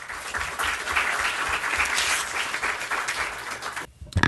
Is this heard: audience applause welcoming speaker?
yes